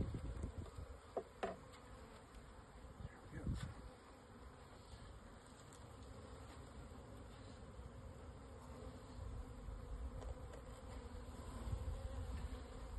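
Honey bees buzz around a package cage during hive installation, a soft, steady drone close by with a few brief clicks and knocks, no talking.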